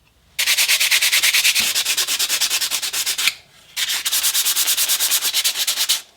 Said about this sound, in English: I'm just going to feel it out with the sandpaper